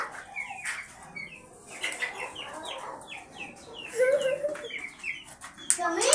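Several chickens cluck and squawk nearby in a busy, overlapping chorus, with a rustle of movement and brief voices in the background.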